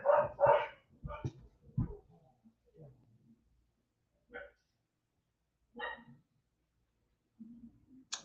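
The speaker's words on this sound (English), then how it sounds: "let me let these dogs get this out of their system" Several house dogs bark in a quick burst of loud, close yaps at the start, then scattered single barks and yips trail off farther away, with a voice briefly heard in the room.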